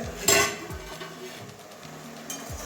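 A metal lid clanks off a cooking pot of rui fish head and gourd-leaf curry, a sharp clink followed by a few soft knocks of cookware in a quiet kitchen.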